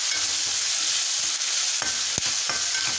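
Onions and tomatoes with a little turmeric sizzle and fry steadily in a pan while semiya upma is cooked, a dense close hiss broken by a few stirring scrapes, with no voices.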